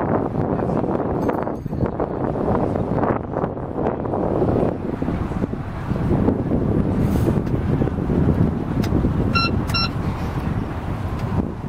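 Wind buffeting a microphone during the docking of a Swift Trawler boat in Bradenton, Florida, a steady broadband rumble and roar holding for about twelve seconds with no talk.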